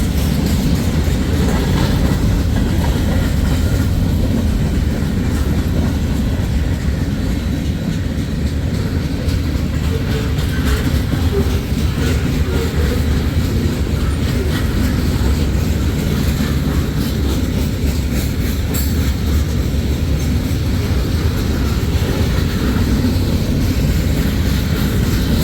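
A South Shore freight train rumbles past at close range, a loud, continuous, heavy low roar with faint rail clatter that holds steady throughout.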